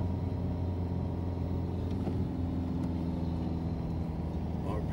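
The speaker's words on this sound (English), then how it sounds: "RPM's at 2500, around there, so I have a lot of torque, but a lot of torque doesn't mean that I got any traction" A Saab 9-3 1.9 TiD diesel runs at a steady, close drone of about 2500 RPM in winter driving, with turbo hum and a low engine rumble that holds throughout.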